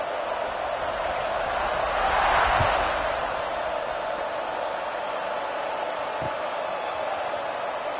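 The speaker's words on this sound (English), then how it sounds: "this crowd is buzzing after that last score" A football stadium crowd in Tennessee keeps up a steady, dense buzz after a touchdown, swelling briefly in a roar near the middle, while commentators talk over it.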